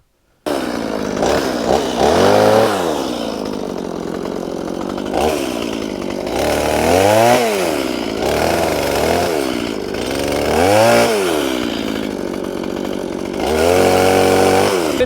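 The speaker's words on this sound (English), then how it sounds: "Now we just gotta get the chainsaw out, trim it up" A chainsaw trims wood for building a chicken coop, its engine loud and close, revving up and down repeatedly as it bites into the timber over about fifteen seconds without pause.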